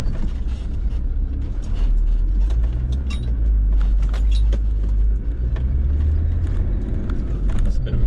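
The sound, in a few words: Land Rover Discovery 2 driving on coil springs, test drive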